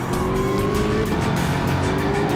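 A Mustang race car in a racing video game powers out of a hairpin onto the front straight, its engine note rising steadily in pitch under hard, continuous acceleration, loud and close.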